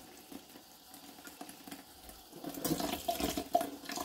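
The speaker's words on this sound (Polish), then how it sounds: "Spłukuję sól z zewnątrz" Water from a kitchen tap runs while salt is rinsed off pork casings, starting as a faint trickle and swelling into a louder, closer splashing flow in the second half.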